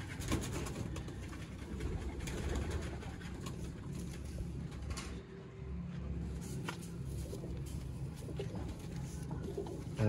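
Pigeons from a Mian Nazir bloodline loft coo in a low, continuous murmur, fairly faint, with steady background noise and no speech.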